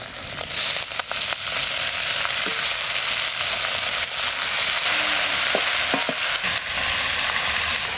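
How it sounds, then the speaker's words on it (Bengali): Leafy greens hiss and crackle in hot oil with garlic and green chili, a steady loud sizzle with a few brief clinks and knocks from stirring. "রসুন, কাঁচা লঙ্কা, এবার শাক পাতা দিয়ে দিচ্ছি।"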